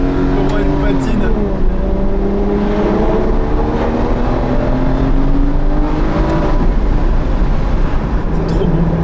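An Aston Martin DBS engine revs and accelerates with a deep rising roar and climbing gear pulls, loud and close, while people talk over it.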